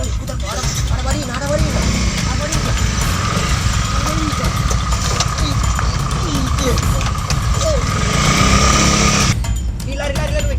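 A small motorcycle engine runs and revs in a loose, buzzing rattle on an Indonesian street, while people shout and talk loudly over it throughout.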